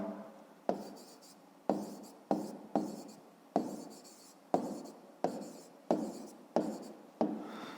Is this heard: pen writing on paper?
yes